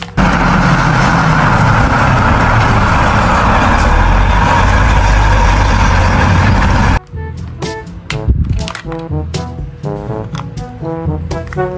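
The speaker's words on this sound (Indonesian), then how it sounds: "Mobil kontainer." A toy container truck's motor gives a loud, continuous rumbling whir for about seven seconds and then stops abruptly, leaving quieter background tones.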